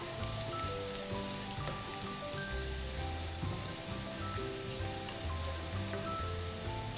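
Garlic frying in a small amount of oil, a steady dense crackling sizzle close up and even in loudness, with no talking.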